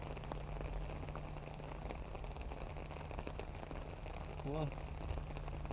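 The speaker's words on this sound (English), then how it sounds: "I'm sorry it's raining so much" Rain patters steadily outdoors around a plum tree with yellowing leaves, recorded on an SJCAM C100+ mini camera, an even hissing wash that continues throughout, with a single brief spoken word partway through.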